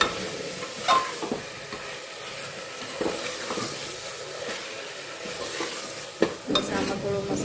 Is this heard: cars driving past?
no